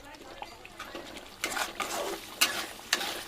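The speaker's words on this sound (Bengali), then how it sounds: "এবার পনিরটাকে একটু ভালো করে কষিয়ে নেব।" Paneer being stirred and fried with masala in a pan, a soft sizzle under a series of louder spoon scrapes and stirring bursts, rising toward the end.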